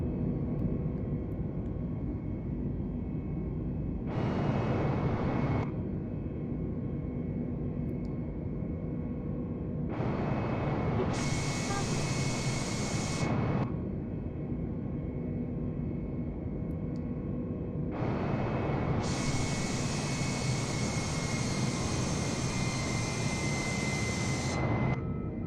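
Steady droning airplane engine in a flight simulator, climbing out after takeoff on a Stockholm to Marseille flight, holding a constant rumble while bursts of bright hiss swell and fade three times over it.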